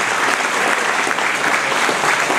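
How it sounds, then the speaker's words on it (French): Warm round of applause from the audience at a Burundi embassy ceremony in Brussels marking 63 years of independence, steady clapping from a crowd filling the room throughout. "Je demande au Burundi de les acclamer"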